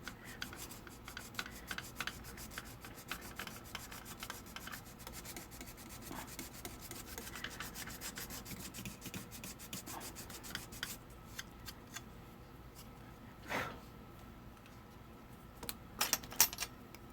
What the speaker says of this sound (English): I'm just sanding this all up.